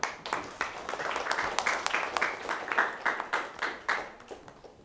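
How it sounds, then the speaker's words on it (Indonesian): Classroom applause in an Islamic studies lesson: many hands clapping together in a dense, continuous patter for about five seconds, fairly close and steady, with no voices over it. "Kasih aplaus untuk kita semuanya."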